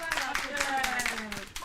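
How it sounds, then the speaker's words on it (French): An audience claps for Brianna during a French youth talent show, the steady patter of many hands running under a speaking voice for a short stretch. "On applaudit Brianna."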